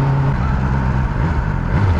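A 2022 BMW S 1000 R motorcycle on its stock exhaust rumbles steadily and loudly up close, with a deep continuous drone and slight pitch shifts.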